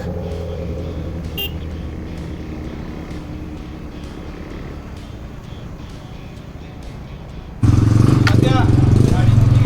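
A loud sport motorcycle engine roars up close near the end, following a steady traffic rumble with a brief horn toot, in Mahabaleshwar.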